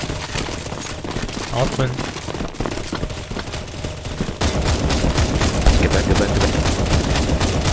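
Gunfire from automatic weapons shooting zombies in CS:GO, a dense continuous barrage of rapid shots that gets louder partway through, with people talking over it.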